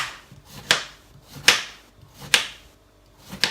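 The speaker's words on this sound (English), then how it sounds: "what I'm doing is I'm just going to cut them into small discs first and foremost" Four evenly spaced knife chops through marrow on a cutting board, each a crisp close thud with a short scraping tail, separated by quiet gaps.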